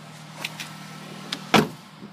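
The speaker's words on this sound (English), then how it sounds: "Power windows here in the rear." Rear power windows on a Nissan Rogue SL all-wheel drive operating: a low steady motor hum with a few light clicks, then a sharper thump near the end, close and alone.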